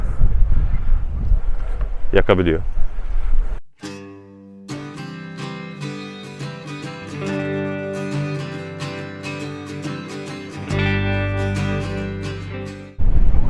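Strong wind roars and buffets the microphone on a seaside hill at a camp by Demircili Bay in Urla, İzmir. A low, gusty rumble runs under a voice for a few seconds, then cuts away as music takes over.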